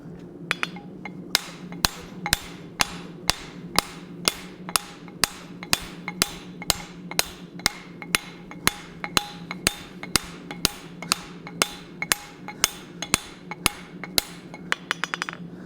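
Hammer blows ring steadily on 5160 steel at the anvil, around thirty sharp metallic strikes in an even, quick rhythm, loud and close with a faint low hum beneath.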